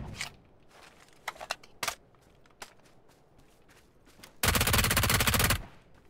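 Gunfire in a first-person shooter game: a few scattered single shots early on, then a dense, loud burst of rapid automatic fire lasting about a second before it fades out.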